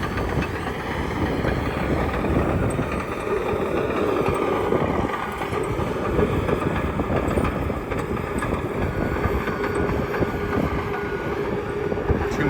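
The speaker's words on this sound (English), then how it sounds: "Too much wind is probably the conclusion." Strong outdoor wind at a mine fire excavation buffets the microphone in a constant, heavy, low rumble that roars without a break for the whole stretch.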